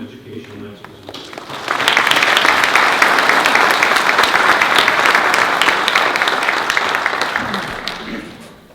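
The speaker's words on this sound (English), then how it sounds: "Please join me in a round of applause and welcome our Chair of the Board of Education, Lance Mizumoto." Audience at a school conference breaks into loud, sustained applause to welcome the board chair, rising sharply after a moment of murmuring and holding steady before tapering off.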